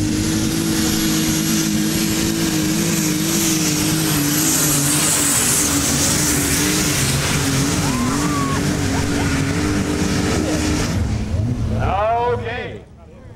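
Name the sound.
modified pulling tractor, DT 466 International Harvester engine, methanol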